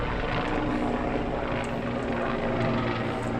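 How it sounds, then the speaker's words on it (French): A helicopter passes overhead in Montreal, a loud steady rotor and engine drone filling the sound throughout, close and continuous with no talk over it. "il y a un hélicoptère qui me passe dessus là"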